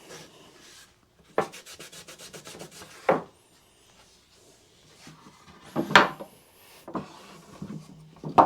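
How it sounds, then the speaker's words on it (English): Excess glue is wiped off pine boards before clamping, heard as a series of close rubbing and scraping strokes, some quick and repeated, with quiet gaps between them. "Just wiping some of the excess glue off before I do the clamp up."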